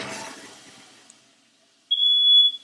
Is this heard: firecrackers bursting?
no